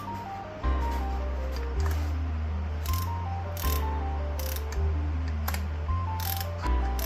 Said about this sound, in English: Here I am torquing it down to 80 foot-pounds